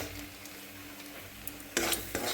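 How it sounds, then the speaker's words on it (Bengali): A thick spice paste for a fish curry fries in a hot pan, sizzling steadily while a utensil stirs and scrapes it, then a sharper, louder burst of sizzle and clatter near the end. "মশলা যখন এরকম পুরো দলা হয়ে আসবে তখন কিন্তু মশলাটা পুরো ভাজা।"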